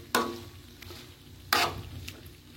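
Rendang spice paste frying and being stirred in a pan, a soft steady sizzle broken by two sharp scraping stirs of a utensil against the pan, close and moderately quiet with no talking.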